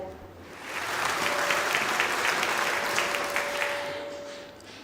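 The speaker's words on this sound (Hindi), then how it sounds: "तकरीबन सवालात के सही जवाब दिए, तालियां बनती है" Studio audience applauding a contestant's correct answers on a Ramadan quiz show, a sustained wash of clapping that swells, holds steady for several seconds and then tapers off, with a faint steady tone running underneath.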